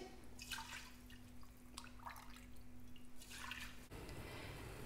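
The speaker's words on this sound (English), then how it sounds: "And now I start to strain it." Hen soup stock from an organic farm trickles and drips faintly as it is strained, with soft intermittent splashes over a quiet background hum.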